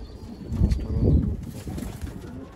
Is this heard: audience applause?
no